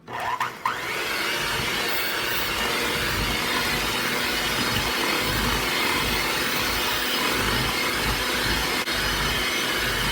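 An electric mixer creams eggs and vanilla extract into peanut butter chip cookie dough, a loud, steady whirring drone that starts abruptly and runs without a break, with no talking.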